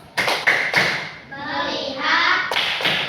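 Children clapping together in a classroom, a loud rhythmic pattern of sharp claps separated by a brief chanted stretch before the claps resume.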